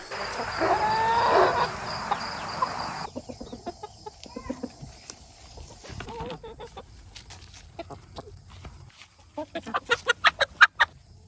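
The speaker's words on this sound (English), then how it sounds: "Catching a chicken isn't always the easiest thing." A hen clucks and squawks in agitation while being caught outdoors, with a loud flurry early on followed by scattered clucks and a final burst of rapid, close, rhythmic squawks.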